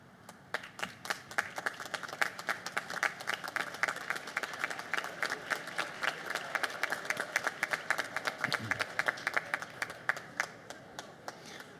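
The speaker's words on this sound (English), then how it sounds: "give them a round of applause" Sustained applause from graduates at a college commencement ceremony, steady dense clapping from a large crowd that carries on throughout without letting up.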